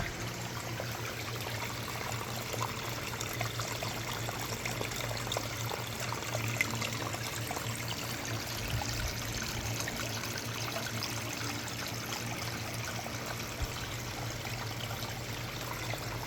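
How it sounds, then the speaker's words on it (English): Water from a man-made backyard creek trickles and drips off a rock face, a soft, continuous close-up patter with no voices. "Dripping off that rock face there."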